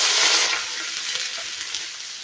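Sautéing in a pan while starting chicken tinola, a loud, close, continuous sizzle that eases slightly after the first half second.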